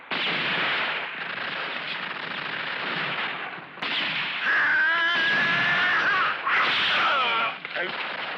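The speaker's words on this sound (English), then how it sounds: "the other machine gun" Machine gun fire in a western movie battle scene, a rapid, sustained rattle of shots with sharp whines and cracks, mixed with shouting voices and other battle noise.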